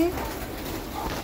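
A pigeon eating grain gives a brief, low, throaty coo close by, partly mixed with a voice talking nearby.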